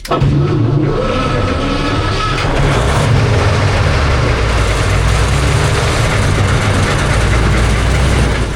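A Soviet SU-100 tank destroyer's engine runs steadily during a workshop test, a loud, continuous low rumble with a droning idle tone holding throughout, close by and without speech.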